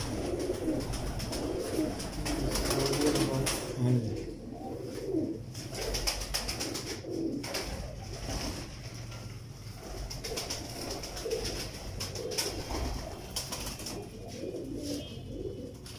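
Teddy pigeons coo softly and repeatedly over a steady low background rumble, with no voices present.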